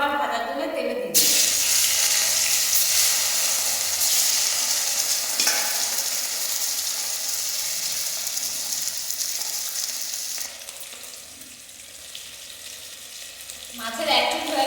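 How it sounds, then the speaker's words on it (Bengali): Fish frying in oil, a loud broad sizzle that rises sharply as pieces go in, holds steady, then eases off before a brief clatter near the end; close and continuous, with no speech. "আর এই মাছগুলো আবার ভাজার জন্য তেলে দিয়ে দিই।"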